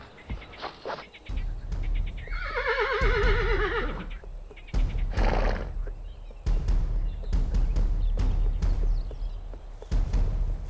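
A horse neighs loudly in a shrill, wavering whinny, followed by snorts, hoof thuds and rustling movement nearby.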